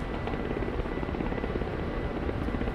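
A Ka-50 helicopter's rotor in the video game DCS Black Shark 2 gives a dense, steady thumping roar, close and loud throughout with no talk.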